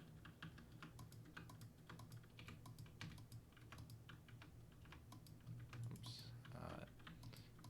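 Computer keyboard keys pressed while playing a Minecraft clone, a quick irregular run of clicky taps close up, with faint voices in the background.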